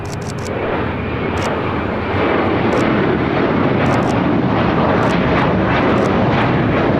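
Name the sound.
Fiji Airways Airbus A350 arriving on runway 25 left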